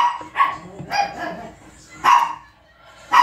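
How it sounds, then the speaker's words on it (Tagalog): A dog barks several times in short bursts, fairly close, with pauses between the barks and some faint background noise. "Ang ingay ng aso namin."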